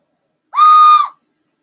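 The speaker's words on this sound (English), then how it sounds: "the wooden whistle" A whittled wooden dowel whistle blown once, a single clear steady tone lasting about half a second with a slight upward scoop at the start, loud and close, no voices.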